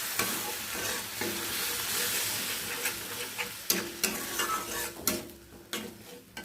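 Mashed flat beans with turmeric and fried onion sizzling in a pan while being stirred, steady frying hiss broken by sharp spatula scrapes and knocks against the pan.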